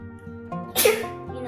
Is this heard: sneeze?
yes